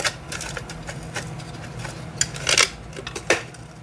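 A metal motorcycle battery and brackets being fitted into a Honda NTV650 budget cafe racer, with light clinks, taps and scrapes of metal parts that grow busier and louder toward the end.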